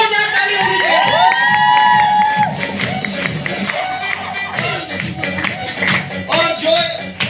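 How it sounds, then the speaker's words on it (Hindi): A crowd at an RTC speech event in Navsari whoops and cheers for Vipin Gamit, loud excited shouts and whistles from many voices, with applause mixed in near the mic. "जो हमारे विपिन गामित सर, उनके लिए भी एक बार जोरदार ताली होनी चाहिए"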